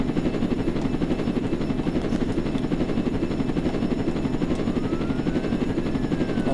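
A helicopter in the Roblox video game gives off a constant, loud, evenly pulsing rotor drone that runs without a break from start to end, with no speech over it.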